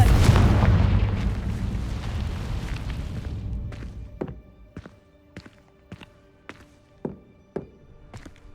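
Confringo spell in Hogwarts Legacy, a rumbling fiery blast that swells and fades over a few seconds, followed by a string of sharp, separate impact thuds.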